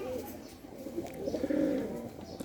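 Pigeons coo steadily and close by in a loft holding newly caught squabs, a soft low repeated cooing that swells in the middle and carries on throughout, with no talk over it.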